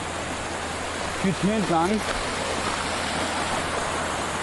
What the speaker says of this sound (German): Ihr hört es sicher am Wasser.